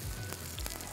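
Onions frying in a pan for chicken ginger gravy give off a steady, soft sizzle with faint crackles, close and alone.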